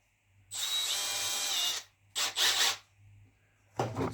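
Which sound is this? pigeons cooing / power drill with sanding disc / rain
power drill with sanding disc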